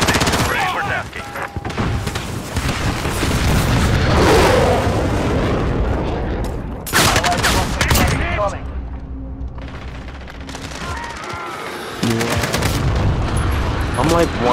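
A called-in fire strike in a military shooter game brings heavy explosions and rolling booms mixed with bursts of gunfire, loud and close, with a brief lull before the barrage resumes.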